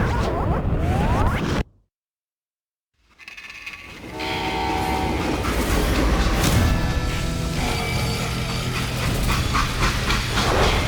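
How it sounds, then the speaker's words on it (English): Freight train rumbling and clanking in the video game Call of Juarez Gunslinger, a brief silent gap and then a steady, loud mechanical roar of rolling cars that continues to the end. "They hopped a freight train"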